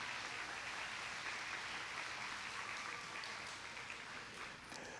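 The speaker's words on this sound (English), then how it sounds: "a round of applause" Steady applause from a county fair queen pageant audience fills the whole stretch, a dense even clatter of many hands clapping with no voices over it.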